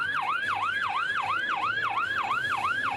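A loud, rapid yelping ambulance siren cycles up and down steadily, several sweeps per second, continuous and close with no voices, in snowy traffic in Slovenia.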